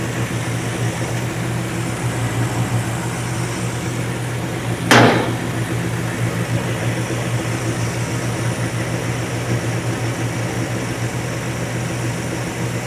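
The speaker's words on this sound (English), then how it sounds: "It's quiet. Well, engine itself, not like exhaust, but like no rattles, no nothing." A 1947 Ford engine runs smoothly with a steady, even drone and low hum and no rattles. A single sharp tap cuts through about midway.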